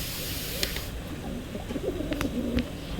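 A pair of pigeons kept by a fancier coo in soft, low, repeated notes close by, over a faint background hiss, with a couple of brief clicks.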